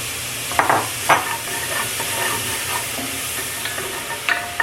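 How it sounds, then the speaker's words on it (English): Onions and celery sautéing in a pan after pork has been cooked and removed, for a clam chowder, giving a continuous close sizzle with a few sharp stirring scrapes. "Then I'm going to add my onions and my celery, and we're going to cook this for about 5 minutes."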